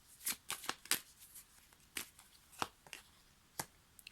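Tarot cards shuffled and drawn by hand, giving a series of crisp papery flicks and snaps at uneven intervals, close and fairly quiet.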